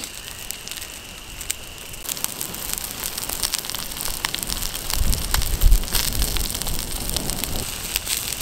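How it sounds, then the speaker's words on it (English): Steady rain patters on a campsite in Australia, a continuous broadband hiss of drops that swells somewhat louder toward the end, with no voices. "Oh, just wish this rain held out for like 10 more minutes."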